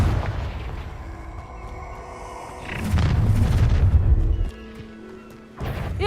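In the Hogwarts Legacy video game, a Confringo spell lets off booming explosive blasts, with one heavy burst in the middle followed by a second sharp impact, among crackling combat effects.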